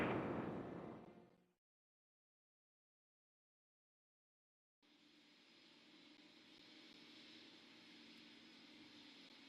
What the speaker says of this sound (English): liftoff of the United Launch Alliance Delta IV Heavy rocket